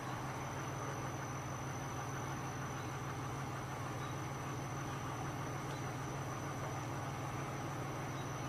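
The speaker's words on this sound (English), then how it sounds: "now I'm going to start the van up" A van engine idles in a steady, unbroken drone with a low hum running throughout, fairly quiet and even from start to finish.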